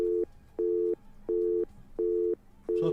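A telephone busy tone follows a dropped call. Five evenly spaced steady beeps play alone, clear and close, with a little noise at the very end.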